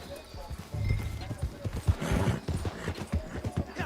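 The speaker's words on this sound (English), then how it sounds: "I got my horse following me" A horse's hooves clip-clop in a video game as the horse follows along behind, a brisk, even stream of close hoof thuds with some voice in the background.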